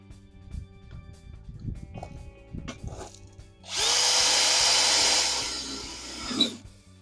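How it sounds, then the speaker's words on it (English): A DeWalt DCD805B 20V Max hammer drill whirs up and drives a self-tapping screw in one loud, steady burst of a few seconds, with quieter handling noises before it and a brief spike as it stops. "And I'm going to try a self-tapping screw."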